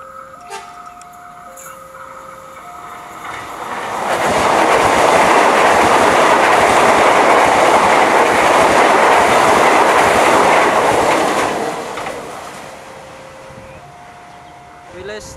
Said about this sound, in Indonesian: Dan KRL baru saja melintas papasan di JPL 244 Ngawonggo